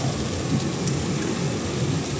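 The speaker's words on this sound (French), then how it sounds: "t'as vu ton tonnerre?" Heavy rain pours steadily during a thunderstorm out on a storm chase, a dense continuous hiss with a low rumbling thunder undertone running throughout, no voices.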